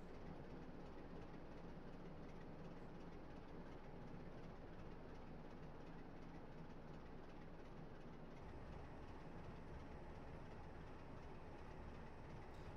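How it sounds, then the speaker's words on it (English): A train braking as it approaches a stop at Northallerton on the East Coast Main Line in rain, heard from on board as a steady loud rumble and rolling wheel noise throughout, easing slightly late on. "So we're going to increase our brake application now."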